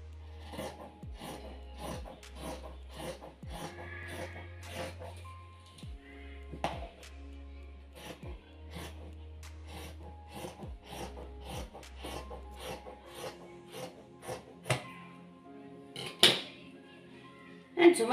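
A fabric sleeve is cut while sewing a gandoura: a close, steady series of crisp cutting snips and rasping strokes repeats at an even pace over a low background hum, with a louder handling noise near the end.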